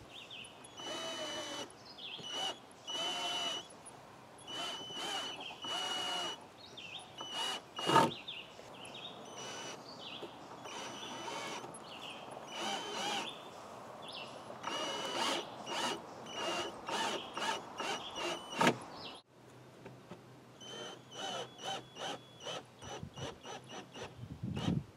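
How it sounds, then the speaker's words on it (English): A power drill drives screws into a lawnmower trailer with an extension bit: many short, rapid whirring bursts in an irregular stuttering rhythm, close and fairly faint, with a couple of brief pauses. "drive in the screws with the drill."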